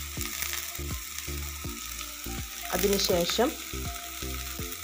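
Grated carrot for thoran sautés in a pan, a soft sizzle broken by repeated rhythmic scraping strokes, with a brief spoken word over it.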